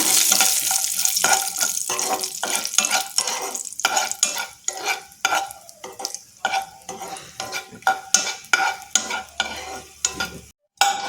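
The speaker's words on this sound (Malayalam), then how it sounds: "അതിലേക്ക് കുറച്ച് കാഷ്യൂ ഇട്ടിട്ടുണ്ട്" Cashews roasting in ghee in a pan for kashi halva, with a crackling fry and a rapid series of close scraping spoon strokes as they are stirred, loud and continuous until a brief pause near the end.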